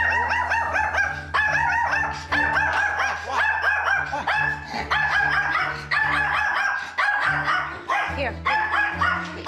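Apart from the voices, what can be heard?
dog Jake barking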